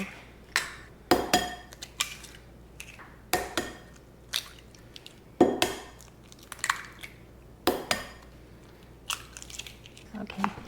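Eggs are cracked one after another for einkorn bread batter, producing sharp close cracks and wet squishy splats at a steady pace of about one every two seconds.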